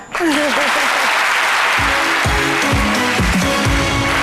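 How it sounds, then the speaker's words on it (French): Loud, sustained applause from a crowd fills the room while a voice speaks over it. "Paulus Agaton, merci de l'applaudir."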